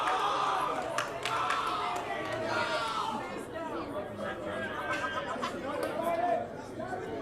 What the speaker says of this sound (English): Crowd is enjoying the game. You can probably hear them over there.